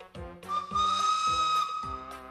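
A steady, bright whistle holds for about a second, rising in with a chuffing rhythm of low puffs underneath, like a cartoon steam train whistle heard fairly close.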